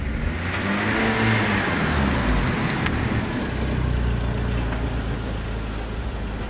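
A Citroën C2 S1600 rally car, naturally aspirated, with a steady engine roar that holds loud and close throughout, with no talk over it.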